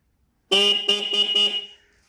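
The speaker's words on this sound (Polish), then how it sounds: "Nie wiem, czy ten klakson jest oryginalny z tej Yamaha, Yamaha TT600E Belgarda 97 rok." The horn on a 1997 Yamaha TT600E Belgarda motorcycle sounds close and loud in a single sustained blare of about a second and a quarter, pulsing slightly, after silence and with no talk.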